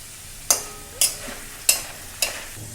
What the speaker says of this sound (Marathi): छान तेलावर आपला आता बटाटा होत आलेला आहे छान असा गोल्डन ब्राऊन झालेला आहे